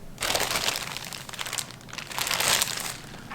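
Someone handles a plastic potato bag, producing close, quiet bursts of crinkling and rustling in irregular clusters, without speech.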